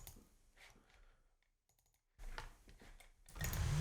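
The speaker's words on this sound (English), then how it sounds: "we are going to need to do a lot of typing in the expression control thing" Someone types on a computer keyboard while setting up a Dexed DX7 synth patch. Quiet bursts of clicking keys stop briefly in the middle, then return more densely and a little louder.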